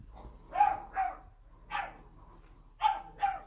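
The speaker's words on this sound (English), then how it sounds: "Sorry if you can hear the puppies that I'm fostering." Foster puppies bark in a home, a few quick paired yips and barks at moderate distance, sharp and short with quiet gaps between them.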